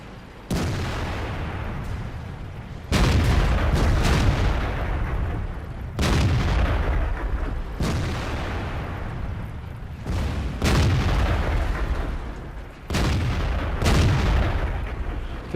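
Heavy tank cannon fire during a firefight in World of Tanks, six loud booming shots spaced a few seconds apart, each followed by a rumbling decay.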